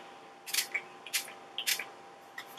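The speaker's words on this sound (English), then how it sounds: "So I'm just going to spritz my face" Three short hissing spritzes of Mario Badescu facial spray misted onto a face, evenly spaced about half a second apart and close to the mic, with a fainter fourth burst at the end in a quiet room.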